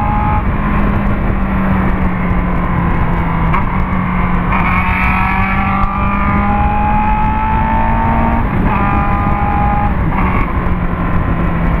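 Honda Hornet motorcycle under way, its engine note rising in pitch as it accelerates, dropping at each gear shift and climbing again, loud and close with steady wind rush, no talk.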